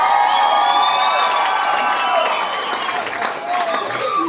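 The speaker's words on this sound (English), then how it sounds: "every time I take a drink, you guys give me a huge round of applause" An audience at a charity benefit show breaks into loud applause with cheering and whoops, a dense burst of clapping that fills the room and gradually thins out toward the end.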